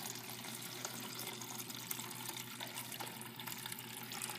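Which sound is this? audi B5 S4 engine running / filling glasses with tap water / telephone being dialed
filling glasses with tap water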